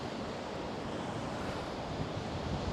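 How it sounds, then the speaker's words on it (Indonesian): Strong seaside wind buffets the microphone continuously, a loud dense roar mixed with crashing surf near Hanoman Island, steady throughout with no speech. "kondisi suara saya agak berisik karena anginnya itu begitu kencang teman-teman."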